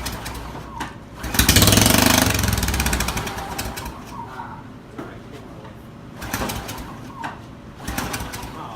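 A straight-piped lawnmower engine sputters into a loud, rough burst of running, then drops back to lower rumbling and clatter, with people talking nearby outdoors.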